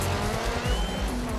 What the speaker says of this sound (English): drifting is basically controlling your car sideways around a series of corners